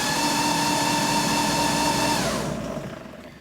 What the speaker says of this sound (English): which activates the motor